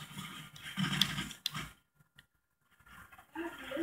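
A dog in the Call of Duty video game gives a few close barks and growls, then falls silent.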